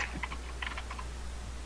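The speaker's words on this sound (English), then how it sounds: "I can hear her typing." Computer keyboard typing comes through faintly as a few scattered, quick key clicks in two short bursts, heard over an online voice chat during a tabletop role-playing session with steady low background hum.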